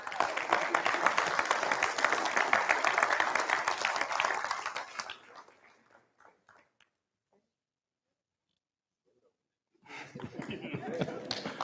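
An audience at an all-hands meeting applauds award winners with loud, sustained clapping that fades into near silence, then swells up again.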